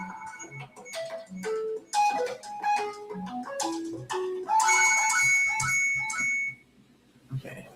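A child's mobile phone ringtone plays a bright melodic tune of steady electronic notes for several seconds, fairly loud and with no talking.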